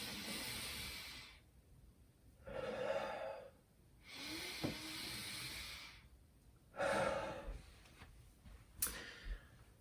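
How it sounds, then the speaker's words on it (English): Deep diaphragmatic breathing, slow and close-up: three or four long, airy inhales and exhales in a steady rhythm, alone and without speech. "I'm also breathing into the upper back of the lungs"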